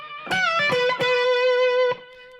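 Electric guitar played through distortion: a short lick of a few sharply picked notes, including a pre-bent note that sustains and is released, bright and close with no talking.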